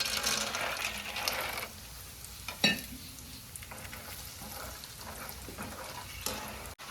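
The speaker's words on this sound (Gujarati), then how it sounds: "તેલ ગરમ થઈ ગયું છે, બિયા તળવાના છે, બેન નાખે બિયા।" Seeds fry in hot oil in a home kitchen, a close crackling sizzle with occasional stirring clinks and one louder knock, fading somewhat after the opening seconds; no talking.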